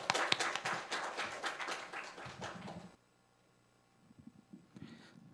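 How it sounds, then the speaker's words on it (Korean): A forum audience gives welcoming applause for a presenter, dense clapping for about three seconds that stops abruptly, followed by quiet and a few faint scattered sounds. "환영의 박수 부탁드립니다."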